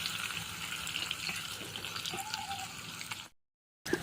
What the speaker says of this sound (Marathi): तर बघा लसूण छान असा तळा गेलेला आहे मस्त कलरही चेंज झालेला आहे